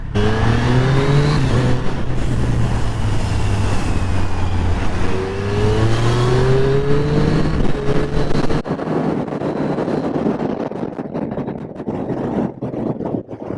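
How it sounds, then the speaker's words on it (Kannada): A superbike ridden through city traffic revs hard, its loud engine whine climbing in pitch through several gear changes before dropping off to a lower, rougher burble near the end, with no talk. "ಸೂಪರ್ ಬೈಕು ಸಿಟಿಲಿ ಓಡಿಸೋದು ಈಸಿ"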